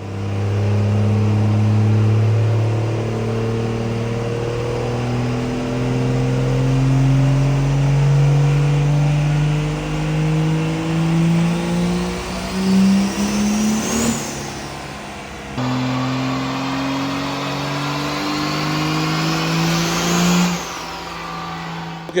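Car strapped to a dynamometer making about 800 horsepower: the engine climbs steadily in pitch through a long, loud pull, peaks and drops off, then a second, shorter rev rises and falls.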